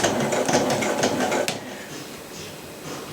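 A sewing machine runs loud and close as it back stitches a thermal window cover for an Ice Castle, rattling rapidly for about a second and a half before cutting out into quieter room noise.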